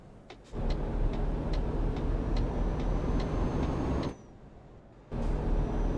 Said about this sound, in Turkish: Vallahi billahi arabada retarder varmış.